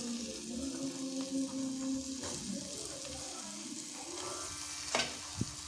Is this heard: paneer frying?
yes